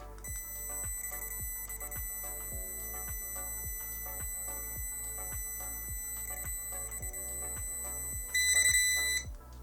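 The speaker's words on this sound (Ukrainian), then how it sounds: "Ось так спрацьовує парктронік." A Fighter FPS-4D car parking sensor beeps in a steady, rapid series of evenly spaced tones, then shifts briefly to a louder, continuous higher tone near the end.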